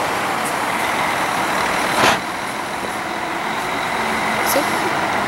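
A Rod Rotas G7 coach, formerly run by JSL and Itapemirim, pulls into Tietê bus terminal after arriving from Goiânia, its engine rumbling steadily with a sharp air-brake hiss partway through, while people talk nearby.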